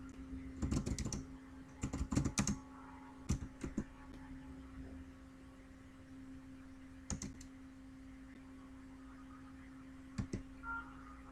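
Bursts of typing on a computer keyboard as a git tag command is entered, quick clusters of clicks and single key taps separated by quiet pauses, close and fairly faint, no talk.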